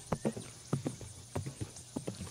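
Horse hooves clip-clopping at a walk as riders travel on horseback, a quick irregular patter of hollow knocks, close and moderately loud, with no talk.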